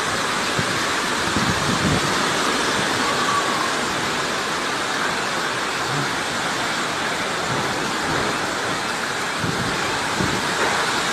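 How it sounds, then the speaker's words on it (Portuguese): Strong storm wind roars and gusts steadily across the whole stretch, a dense broadband rush with occasional low buffeting, loud and continuous with no talk, during a storm in Minas Gerais. "Para, vento, para."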